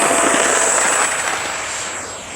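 An FMS 64mm EDF J-10 RC fighter jet spools up and takes off with a loud, steady high-pitched ducted-fan whine and rushing hiss that gradually fades slightly as it pulls away.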